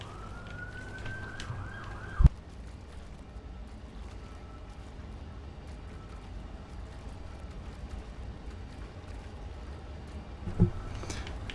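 A siren in the video game Portal 2 wails at the start, a rising tone that cuts off abruptly after about two seconds, followed by steady engine rumble and a sharp knock near the end.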